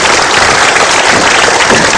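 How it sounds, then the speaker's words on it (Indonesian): A crowd claps loudly and continuously at a Mario Teguh Golden Ways seminar, a dense, steady wash of applause with no pauses. "Silakan kita berikan tepuk tangan."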